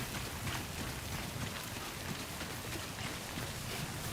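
Rain in the video game Death Stranding 2 falls as a dense, even hiss of drops, steady and enveloping throughout with a faint low rumble underneath and no speech.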